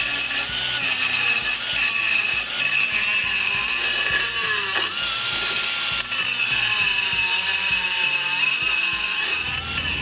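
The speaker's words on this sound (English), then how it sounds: "This carbide burr." A carbide burr on a 4-inch grinder opens up the center hole of a wheel rim for a lawn mower tow vehicle. It makes a loud, steady, high-pitched grinding whine with gritty rubbing that runs throughout and swells briefly partway through.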